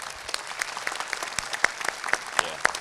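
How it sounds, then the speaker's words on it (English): A panel audience at a gun-rights event claps for Kash Patel, a brisk patter of applause with individual sharp claps standing out over a steady crowd wash. "Let's give a big round of applause for Kash Patel."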